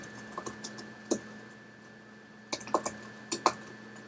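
Light clicks of a computer keyboard as an email address is typed, coming in a few short bursts of taps separated by a pause, quiet and close with no talking.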